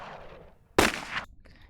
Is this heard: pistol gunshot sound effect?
yes